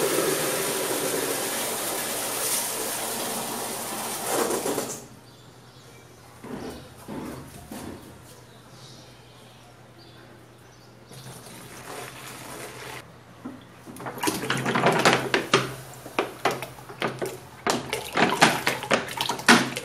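Tap water gushes into a bucket to mix about 15 liters with coffee grounds for homemade fertilizer: a steady, loud pour for roughly five seconds, then quieter knocks and clatter, with louder sloshing and bumps near the end.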